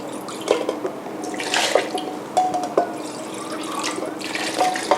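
Plain water pours and splashes into a blender jar holding fermented tofu for a yentafo sauce, a close, steady trickle with a few louder gurgling bursts.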